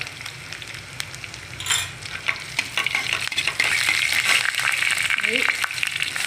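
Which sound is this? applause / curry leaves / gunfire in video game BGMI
curry leaves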